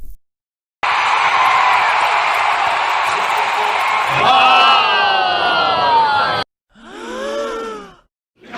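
Crowd sound effects from a free mobile pack: a dense, loud roar of many voices shouting and whooping for several seconds, then a sudden cut to a shorter burst of crowd groans and exclamations.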